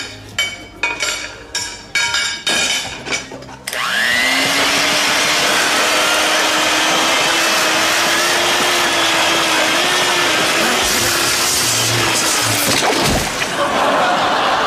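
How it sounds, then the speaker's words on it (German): Clinking and clattering of dishes comes first, then a blender starts up and runs steadily with a loud whirring motor hum for about ten seconds before cutting off. "Dafür gab's den Mixer umsonst mit dazu."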